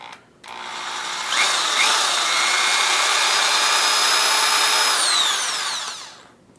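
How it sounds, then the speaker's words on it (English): A power drill bores about half an inch into a plastic blaster kit part, a loud, close, steady high whine that spins up, holds for several seconds and then winds down, with no voices. "Now I'm going to drill in about a ½ inch."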